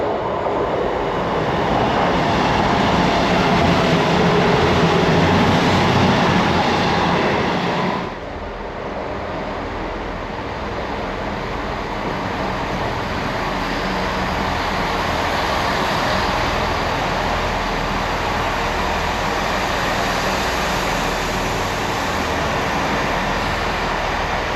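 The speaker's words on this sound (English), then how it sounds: "we're going on the train" Loud, steady rumble of a train ride near Totnes, a dense continuous roar from inside the moving carriage that drops slightly in level partway through and then holds constant with no talk.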